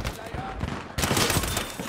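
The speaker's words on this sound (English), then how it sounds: "Where am I getting shot from?" Battlefield 5 gunfire crackles in rapid bursts, a sustained fusillade of shots that grows louder and denser halfway through, with no talk over it.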